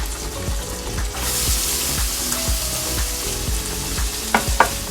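A fish fillet and white onions fry in a hot pan with a continuous loud sizzle, broken by regular stirring scrapes and a couple of sharp clicks near the end, with no talking.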